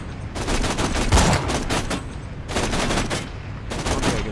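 Sustained automatic gunfire in the shooter game Borderlands 2, loud continuous rattling bursts with a brief gap before firing resumes, heard alone without speech.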